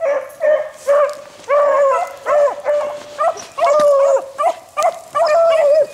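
Hunting dogs on a rabbit chase give repeated loud, yelping barks and bays in quick bursts, close by, with short gaps between volleys and no talking.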